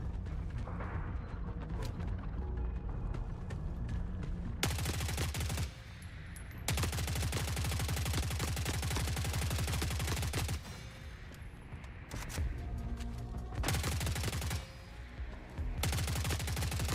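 Sustained automatic gunfire in The Forever Winter, with long rapid bursts broken by short pauses, loud and close throughout.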